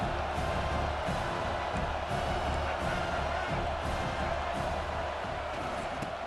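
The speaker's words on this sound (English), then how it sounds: "This crowd knows this defense needs them right now." A stadium crowd in the EA Sports College Football 26 video game roars steadily throughout, a dense, continuous mass of cheering and noise with no clear breaks, heard close and loud.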